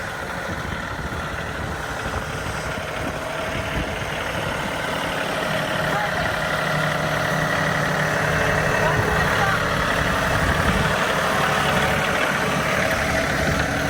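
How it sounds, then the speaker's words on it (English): A small John Deere tractor engine idles steadily and close, a continuous mid-low rumble with a faint knock, running throughout while people talk over it on a farm where a pallet of stone is being moved. "all them years of driving that little John Deere tractor paid off finally"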